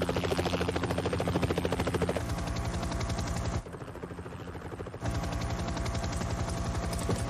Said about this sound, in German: Da ist er! Das ist Ihr Helikopter!